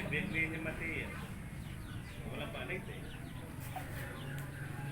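Backyard flock of brown-egg layers, native chickens and bantams clucking softly at close range, with a rooster's comb in view, over steady outdoor ambience and murmured talk.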